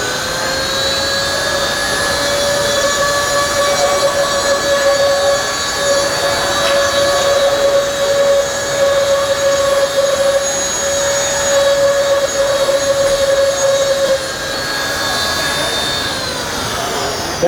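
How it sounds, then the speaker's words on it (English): A Dremel rotary tool drills a hole through glass, giving a steady high whine with sustained tonal harmonics that holds for most of the span and then winds down near the end, loud and close, with no talking. "I'm not pressing hard, I'm letting the weight of the Dremel go through."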